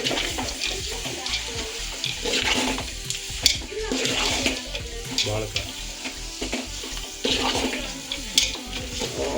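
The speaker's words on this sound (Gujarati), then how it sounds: "હવે આપણે એની અંદર બધા ડ્રાય ફ્રૂટ એડ કરી દઈશું જે આપણે પહેલેથી શેકીને રાખ્યા છે અને એકદમ પરફેક્ટ આપણે મિક્સ કરી લેશું" Roasted dry fruits get stirred into mashed dates for khajur pak in a pan, giving a steady run of sticky scraping, stirring and soft sizzling with scattered clinks, close and moderately loud.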